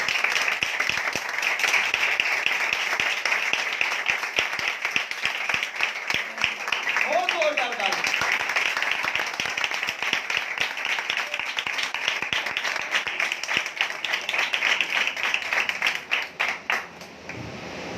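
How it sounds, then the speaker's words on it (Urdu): A church congregation claps loudly and continuously, a dense wash of many hands sustained for the whole stretch before thinning toward the end, with voices briefly audible beneath. "آئیں خداوند کے لیے زوردار تالیاں"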